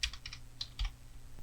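Computer keyboard keys clatter in a short burst of typing, with several close, quick clicks and a couple of heavier keystrokes, no voices.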